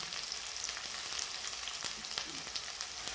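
Whole cumin and garlic frying in hot oil for a village-style chicken curry, a dense, even sizzle with scattered small crackles and pops, heard close and alone without any voices.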